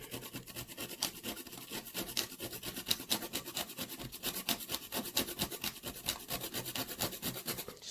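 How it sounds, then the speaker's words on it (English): Scrap paper, folded to an edge, scraped against a grater to make flocking powder, giving a close, rhythmic rasping with quick repeated strokes that continue steadily throughout. "And I just grate."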